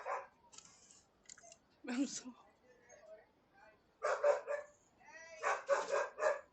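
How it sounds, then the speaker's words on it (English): A pet dog barks in a few loud bursts in a room, the barks coming in clusters near the end, with a person talking over and between them. "Can you hear my dog?"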